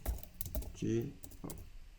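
Typing on a computer keyboard while running a MATLAB program, a few light key clicks at close range, interrupted by a brief vocal sound.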